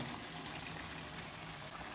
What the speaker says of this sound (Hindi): तो साथ पानी भी ऐड कर रहा हूँ मैं।